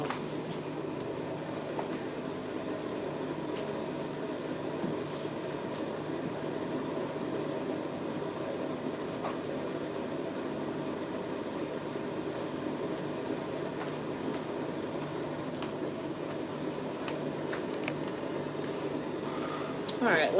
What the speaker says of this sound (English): she's gonna go under the dryer for 15 minutes.